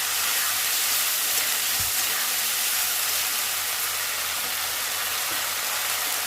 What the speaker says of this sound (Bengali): একটু কষিয়ে নিচ্ছি মশলাটা, কাঁচা গন্ধ যাতে চলে যায়